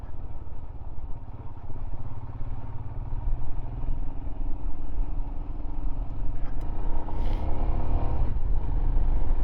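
A Royal Enfield Himalayan 411 motorcycle rides at slow speed, its single-cylinder engine a loud, close, steady low thrum with slight rises in revs and some rattling, no talk.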